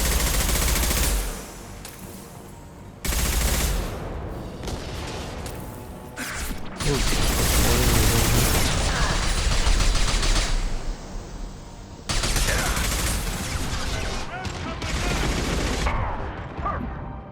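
Dense, loud gunfire from the video game Mass Effect Legendary Edition rattles in sustained automatic bursts and overlapping shots, with brief lulls and crashing impacts across the whole stretch.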